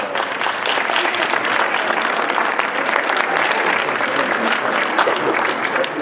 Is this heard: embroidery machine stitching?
no